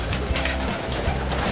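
Racing pigeons in a farm's loft coo in low, repeated throaty phrases, close and fairly loud, with a rustle of other noise between calls.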